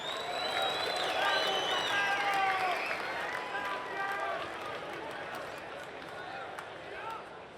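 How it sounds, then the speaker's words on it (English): Arena crowd at a professional boxing match applauding both fighters after a stoppage, a broad wash of clapping and cheering over a busy announcer's voice, fading slightly toward the end. "let's have a round of applause for both of our boxers"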